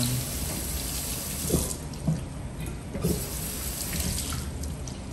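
Tap water runs steadily into a sink while a warm/cool mist humidifier is rinsed out, a constant splashing hiss with a few louder splashes and knocks, no talking.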